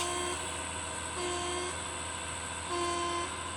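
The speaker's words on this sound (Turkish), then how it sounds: "Millet kornalara basıyor." Truck horns honking in the multiplayer driving game Truck Simulator Ultimate, three sustained blasts spaced about a second apart, set fairly faint over a continuous engine drone.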